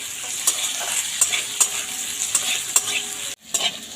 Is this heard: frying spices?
yes